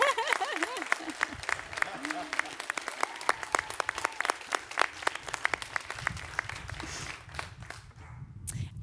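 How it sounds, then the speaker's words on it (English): Audience applause at an affordable housing grand opening on Treasure Island, a dense, steady clatter of many hands clapping for several seconds, with a few voices and movement mixed in before it fades out. "Please give Sherry a round of applause and appreciation."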